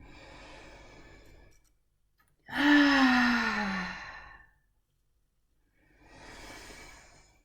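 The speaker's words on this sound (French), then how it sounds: "on va prendre 3 grandes respirations" Deep breathing during a guided breathing exercise: a faint exhale, then a loud, long sighing breath out, then a softer third breath, each close and separated by silence.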